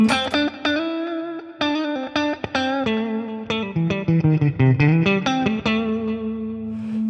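Electric guitar played through an IK Multimedia TONEX amp modeler with tape delay, plucked notes and short phrases trailing soft repeating echoes, sustaining into a held final note, with no talking.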